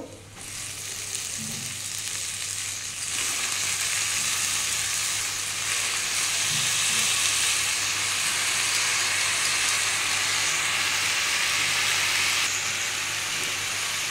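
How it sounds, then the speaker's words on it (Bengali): Red amaranth greens and sun-dried lentil bodi fry in a pan with a steady, loud, hissing sizzle that runs unbroken and close for the whole stretch. "এই বন্ধুরা এটা দিয়ে একটু ভেজে নেব"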